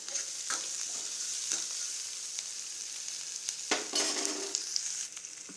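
Brinjal pachadi ingredients sauté in a pan, giving a steady close sizzle and frying hiss throughout, with scattered scraping stir sounds and light clinks, and no voices.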